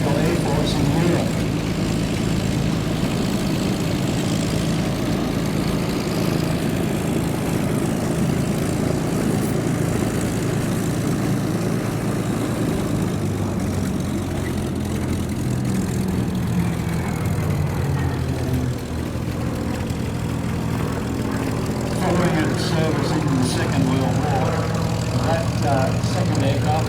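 A WW2 Spitfire Mark 16 propeller warbird at a Temora airshow gives a continuous loud engine drone with broad rumble throughout, while an announcer talks over it.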